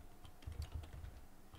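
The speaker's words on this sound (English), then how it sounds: "clumsy typing." Quiet, uneven typing on a computer keyboard during Lisp coding, a handful of soft, muffled key taps bunched in the middle of a brief stretch, faint and close, with no speech.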